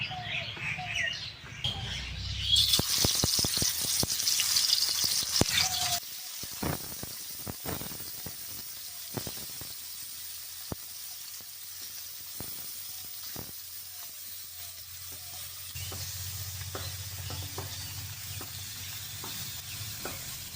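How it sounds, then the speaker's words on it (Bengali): Bata fish coated in salt and turmeric frying in hot oil in a wok, a steady hissing sizzle with scattered utensil clicks while birds chirp faintly in the background. "মাছটা ভাজা হয়েছে"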